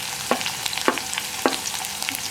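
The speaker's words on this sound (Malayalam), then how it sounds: "അപ്പോൾ നമ്മുടെ കടുക് പൊട്ടി കഴിയാറായിട്ട് നമ്മൾ ഉള്ളി ചെറുതായിട്ട് കട്ട് ചെയ്ത് വെച്ചിട്ടുണ്ട്. അത് ഇതിലേക്ക് ചേർത്ത് കൊടുക്കാം." Hot oil with popping mustard seeds hisses and sizzles steadily as chopped shallots go into the pan for a beetroot cabbage thoran, with a few sharp crackles and pops close by.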